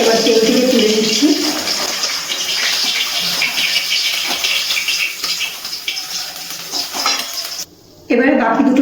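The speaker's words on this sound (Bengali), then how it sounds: "গ্যাসের ফ্লেমটা মিডিয়ামে রেখে পাবদা মাছগুলো ভেজে নিচ্ছি।" Pabda fish fry loudly in mustard oil over a medium gas flame, a dense, close sizzle with occasional utensil stirring and a short break near the end before the hiss resumes.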